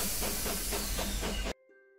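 A loud, continuous steam hiss in the style of a steam train's release, mimicking the Hogwarts Express, pulsing slightly for about a second and a half before cutting off abruptly into near silence with a faint tone.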